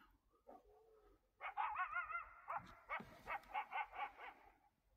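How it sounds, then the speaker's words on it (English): Dogs bark outside a house at night, starting with a few scattered yips and whines, then breaking into a run of repeated close, clear barks in a quick rhythm against a quiet background. "It's making the dogs go crazy right now."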